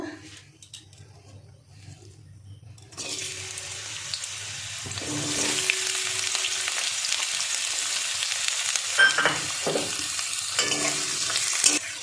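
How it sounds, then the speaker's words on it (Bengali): After a few seconds of quiet, a steady sizzle of onions frying in hot white oil starts and continues, with occasional stirring clinks. "পেঁয়াজটা ভাজা হচ্ছে।"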